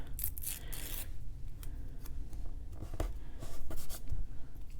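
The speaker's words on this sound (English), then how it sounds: "Black, I'm going to tear it, and then I'm going to rip that in half." Black washi tape is torn and ripped in half close by, giving a few short crackling rips over a steady rustle of handling and light scraping, with no voice.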